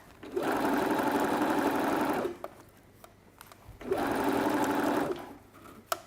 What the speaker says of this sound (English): So I'm just stitching around.